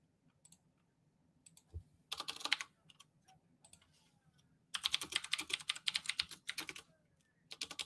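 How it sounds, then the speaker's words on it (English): Loud computer keyboard clattering during a live stream: short bursts of rapid keystrokes with brief pauses between them, close and crisp against a quiet background. "Sorry, my keyboard's so loud."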